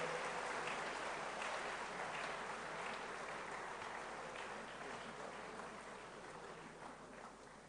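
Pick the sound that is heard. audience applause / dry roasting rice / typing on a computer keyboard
audience applause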